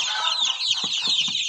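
Dense, continuous high peeping from a large brood of chicks, 56 from an incubator and a broody hen, kept together with five ducklings, with a few soft lower calls mixed in nearby.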